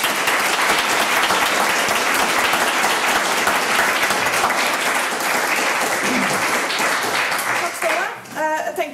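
An audience claps steadily and densely after opening speeches at a live debate with spokesperson candidates, sustained applause that fades near the end as a voice begins speaking.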